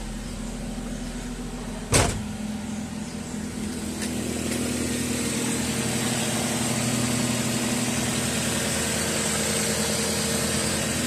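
A Mazda Lantis engine is started with a sharp click and brief burst, then runs on at a steady, low, even idle close by for several seconds.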